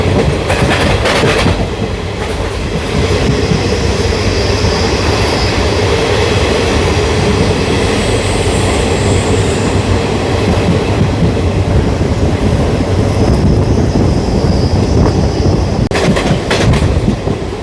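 A train runs steadily along the new Guntakal–Markapur line through the Nallamala ghat section, its wheels giving a loud continuous rumble with rhythmic clatter and occasional higher squeals, with no talk over it.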